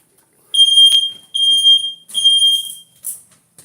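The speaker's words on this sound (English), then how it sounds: "Smoke alarm sound." A household smoke alarm sounds loud and close in a kitchen, giving four sharp high electronic beeps in an uneven rhythm, with no talk over it.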